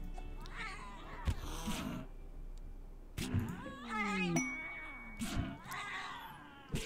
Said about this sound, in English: That's a vicious cat.